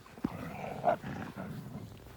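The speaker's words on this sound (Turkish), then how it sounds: "Aslan hala hırlamaya devam ediyor." A lion growls in a low, rough rumble that runs through the whole stretch, faint and steady, with a brief sharper swell near the start and another just before the middle.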